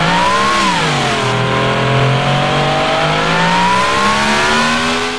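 A V16 car engine in a video game revs loudly and continuously, its tone dipping then climbing smoothly in a steady sweep with no voices.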